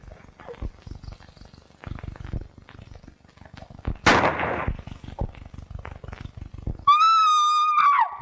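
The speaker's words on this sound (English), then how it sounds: "They shot Jed Johnson." Gunfire in a 1937 western drama: one loud, sharp burst of shots stands out amid a rough, crackly stretch of scattered clicks and thumps, with a voice heard briefly and a high sustained cry at the end.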